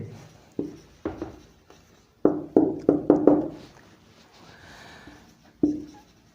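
A sentence is written by hand on a board: sharp, close taps and short scratchy strokes arrive in irregular clusters with brief pauses between them, and no one speaks.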